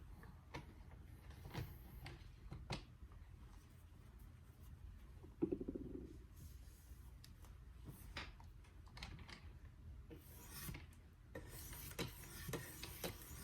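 A Kershaw Lucha knife blade is drawn across the light blue 800 grit side of a whetstone, making soft, faint, repeated scraping strokes in a quiet room.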